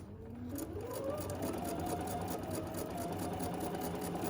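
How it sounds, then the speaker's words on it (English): Bernina sewing machine stitching a quilt block: a close, steady rapid whirring hum that runs continuously without any talk. "stitching right on the line"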